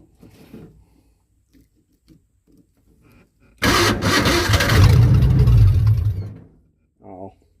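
A long-abandoned 1968 Ford Mustang engine cranking and catching, a sudden loud roar that runs for about three seconds and then cuts out, preceded by quiet clicks and short bits of talk, with another voice after.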